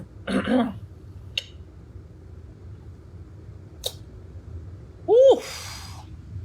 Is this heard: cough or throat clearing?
yes